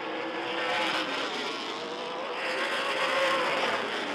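Super late model race cars roar around the Rockford Speedway short track during a 200-lap feature, a dense, continuous engine howl that rises and falls slightly as the pack runs close by, loud and unbroken with no talk.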